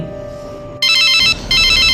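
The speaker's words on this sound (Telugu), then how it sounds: "అరే పాస్టర్ గారు ఫోన్ చేస్తున్నారు" A mobile phone rings loudly and close with an incoming call, its bright electronic ringtone starting abruptly and repeating in bursts with a short gap, with no voices.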